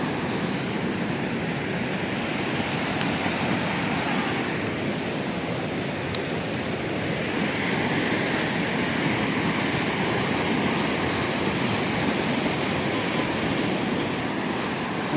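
Sokuluk river in the Kyrgyz mountains flows as a steady, dense broadband rush, continuous and fairly close throughout, with no voices and little variation beyond a slight swell in the water noise.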